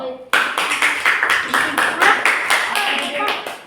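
Classroom of students clapping together at the end of a group presentation, a dense, steady round of hand claps lasting several seconds, close and fairly loud, with scattered voices mixed in.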